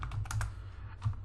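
Computer keyboard typing a BGP router configuration, a brisk run of soft, close keystrokes with a short pause, heard alone without talk.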